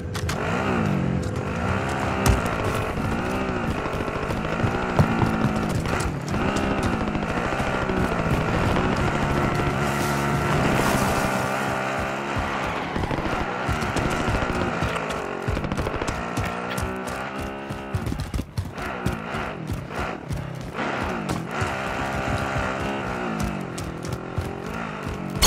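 A vehicle driven in Call of Duty Warzone on PS4: a steady engine drone with revving swells and shifting pitch, loud and continuous throughout, with brief rougher patches.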